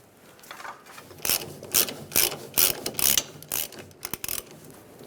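Ratchet snugging down the fuel tank strap bolts on a 1999-2006 Chevrolet Silverado 1500; a close series of short, crisp ratcheting bursts comes in quick strokes with brief pauses between them.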